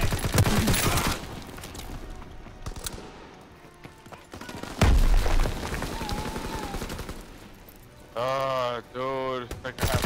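Rapid gunfire bursts and machine-gun fusillades in a Domination match of Call of Duty WWII on the Ardennes Forest map, loud and close, broken by brief gaps, with game voices and a wavering tone near the end.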